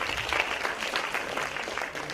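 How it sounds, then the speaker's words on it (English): Parents at a school principal's speech give themselves a round of applause, a full, steady crowd clapping at moderate volume for the whole stretch. "please give a round of applause to yourself"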